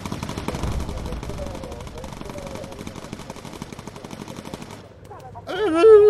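Bomber gunners fire machine guns in the video game Bomber Crew, a steady rapid rattle running for several seconds before fading, then a brief burst of game sound at the end.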